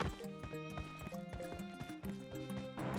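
Running footsteps in the PUBG Mobile battle royale game patter in a quick, steady rhythm of close, sharp steps over a tonal game soundtrack.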